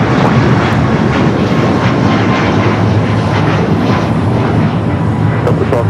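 Aircraft taking off from runway 25 right at Los Angeles International Airport, a loud, steady engine roar filling the whole stretch without a break, with no voices over it.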